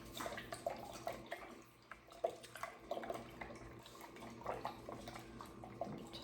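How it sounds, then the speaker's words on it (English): Sugar water being stirred by hand in a container for a ginger bug starter, giving soft, quiet sloshing and small drips and clinks at an irregular pace, with no voices. "And then stir it up."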